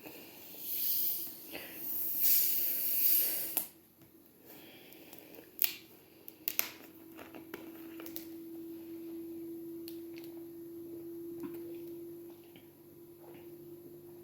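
Cola fizzes after a can is opened, a bright hissing rush for a few seconds that settles into faint, scattered bubbly crackles and pops, close and quiet, with no talk.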